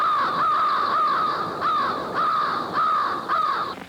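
A huge flock of crows caws loudly and constantly, overlapping harsh calls repeating in rough bursts about every half second, close and dense with no voices.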